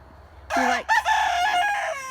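A Turken rooster, a breed with a bare, featherless neck, gives a single loud, close crow that lasts about a second and a half and rises and falls in pitch against quiet surroundings.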